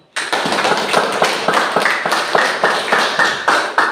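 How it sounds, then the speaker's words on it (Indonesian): A classroom of students claps in a quick, even rhythm of sharp close slaps, loud and without talk. "Kita memberi aplaus kepada kelompok 1"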